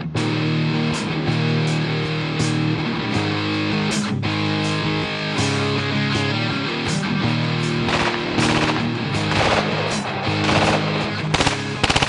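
Rapid, continuous automatic gunfire, loud and dense with distorted rattling bursts throughout, from an FN P90 carbine chambered in 5.7x28, with no talk.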